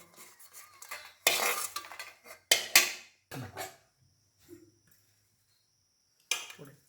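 Roasted dried red chillies are scooped from a pan onto a plate, giving a few separate bursts of metal scraping and clattering with short quiet gaps between them, close and fairly loud.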